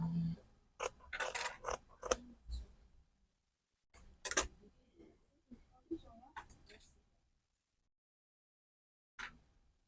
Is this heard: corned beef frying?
no